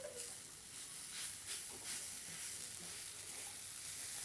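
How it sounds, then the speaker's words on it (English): Vegetarian ginamos with tofu being stirred in a pan, giving a steady soft sizzle and hiss with faint scraping throughout, no talking. "All right, mix and mix, stir and stir."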